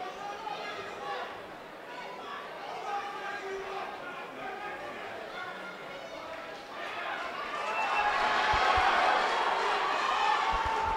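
Arena crowd at an MMA bout between Khiry Todd and Samuel Vasquez, a steady murmur of chatter that swells into louder cheering and shouting near the end, with a commentator talking over it.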